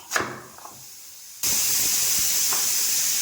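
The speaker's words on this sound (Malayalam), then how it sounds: "അഞ്ച് വിസിൽ അടിച്ച് നമുക്ക് ഇതിൻ്റെ ആവി കളഞ്ഞെടുക്കാം" Pressure cooker vents steam after five whistles while cooking Onam koottukari, a loud continuous hiss that starts abruptly and stays steady, after a few faint knocks and clatters.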